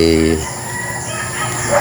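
A rooster's crow rings out at the start, followed by busy clucking and calls from many tethered chickens on a large farm, fairly loud and close.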